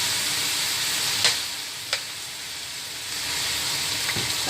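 Fish sauce poured onto fish cake in a hot pan sets off a steady, close sizzle and hiss, with a few sharp spatters and pops breaking through.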